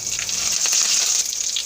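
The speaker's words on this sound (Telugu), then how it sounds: "కరివేపాకు కూడా వేసి వేయించుకుందామండి." Curry leaves dropped into a hot tempering of chillies, cumin and cashews in oil, giving a loud, continuous close-up sizzle with spitting crackles and no voices.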